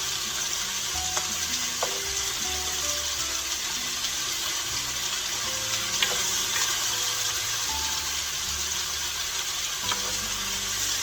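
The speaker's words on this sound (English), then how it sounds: "Getting it to frying good, getting it done" Sausage sizzles and crackles steadily in a hot pan, a constant close frying hiss with occasional soft clicks and pops, no voices.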